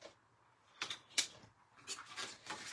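Scissors or a paper trimmer cut through folded gatefold cardstock, a few crisp snips and rustles close up, separated by brief quiet gaps.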